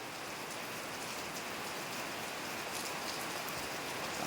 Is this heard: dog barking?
no